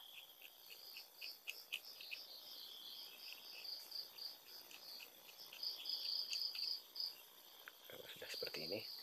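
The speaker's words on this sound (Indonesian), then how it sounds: "sepi pula nih, suara jangkrik-jangkrik seperti itu" Crickets chirp in a steady high-pitched trill, faint and continuous in a quiet night setting, with a brief soft rustle near the end.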